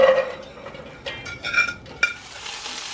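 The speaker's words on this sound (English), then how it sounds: "saute the mirepoix for about 5 or 6 minutes before I add the rest of the ingredients" Mirepoix sautéing in a pot for vegan black bean stew, soft sizzling under scattered spoon stirs and clinks against the pot, close and fairly quiet with no talk.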